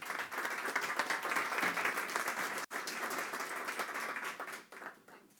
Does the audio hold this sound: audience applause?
yes